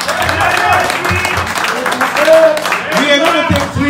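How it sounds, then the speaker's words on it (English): Applause from an audience at a political fundraising event in Columbus, Ohio fills the room, a steady clatter of clapping with voices talking over it. "A round of applause for Omoyele Sowore."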